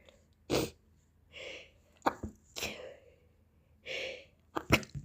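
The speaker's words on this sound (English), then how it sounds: "I'm sneezing the whole time. So I'm gonna show you some sneezes of mine." Someone with a cold lets out a series of close, sharp sneezes, several in a row with short gasping breaths between them.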